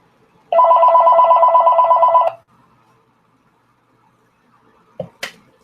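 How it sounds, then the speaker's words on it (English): A telephone bell gives one loud, close, buzzy ring lasting about two seconds, followed by silence and then a couple of brief clicks from the handset being picked up. "Excuse me, I'm sorry, phone."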